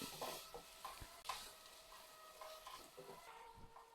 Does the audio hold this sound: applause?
no